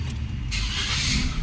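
A Nissan Moco X with a steering lock fault cranks and starts, and the engine catches into a steady, close-up running hum after a brief rumble.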